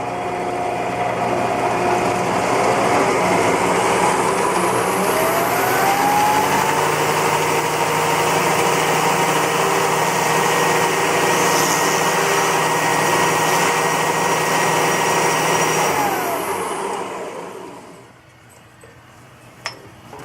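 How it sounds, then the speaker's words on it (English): A router runs continuously while cutting a recess in wood for a golf ball, a loud steady high-speed motor whine with shifting pitch that winds down at the end. "Now I just have to bring it up to router speeds."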